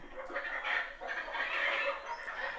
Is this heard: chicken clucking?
yes